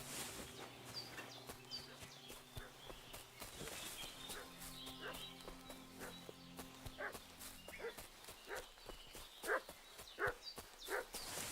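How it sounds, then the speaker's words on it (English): A dog barks repeatedly in the video game Kingdom Come 2, fairly distant and set against a busy ambient game soundscape, with louder sharp barks toward the end. "What's that dog making such a fuss about?"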